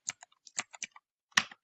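Quick bursts of keystrokes clatter on a computer keyboard, a few clustered taps, a pause, then a sharper final keystroke like a key press.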